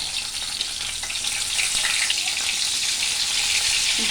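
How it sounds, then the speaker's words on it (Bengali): Steady hiss and crackle of small bacha fish frying in hot oil in a kadai, with bright spattering pops throughout, close and fairly loud. "দেখবেন সাবধানে ভাজবেন, এতে তেল ছিটকায়"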